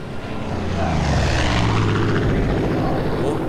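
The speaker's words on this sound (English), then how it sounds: "Oh, plane." An enemy propeller plane in the Far Cry 5 video game drones overhead, its engine roar swelling from moderate to loud and holding steady as it passes close by.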